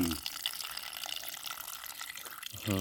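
Water pours into a pan before shellfish are cooked, making a continuous splashing, trickling wash at close range, with brief voices at the start and end.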